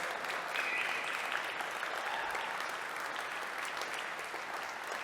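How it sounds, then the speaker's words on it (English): Sustained audience applause at a symposium's concluding remarks, a steady wash of many hands clapping at even loudness throughout, heard from within the room. "give him a big round of applause"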